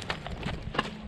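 A working horse showing chrome on its front feet lifts them high, its hooves giving a few quick, light clip-clops at moderate distance over low background noise.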